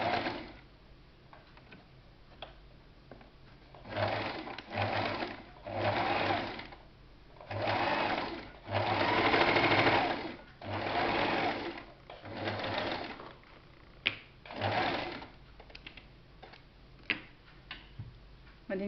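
A sewing machine stitches a half-inch seam in bursts of fast, even mechanical whirring, each run a second or two long and separated by short pauses with light ticks, close and moderately loud with no talking.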